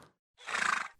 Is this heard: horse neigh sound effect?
yes